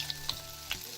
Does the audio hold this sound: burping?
no